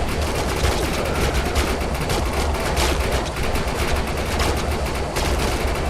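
Sustained rapid automatic gunfire from a weapon in the video game Defiance 2050, a dense continuous rattle of shots running loud and steady throughout.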